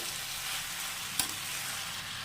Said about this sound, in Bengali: দেখো আমি এটা ভালো মতো কষিয়ে নিচ্ছি